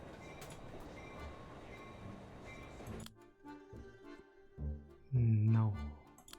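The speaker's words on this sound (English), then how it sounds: "I hope it's not too late and I can still stop the train" A train rumbles steadily in the Irony Curtain adventure game and then cuts off abruptly, leaving quieter game sounds and a short louder tonal burst near the end.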